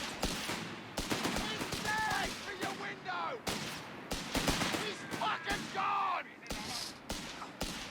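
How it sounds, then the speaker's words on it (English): Grenadier rifle volleys crack repeatedly in the Company of Heroes 3 battlefield, sharp gunshots in uneven bursts and scattered single shots, mixed with distant battle noise and faint voice-like calls. "These other Grenadiers getting a couple of volleys off"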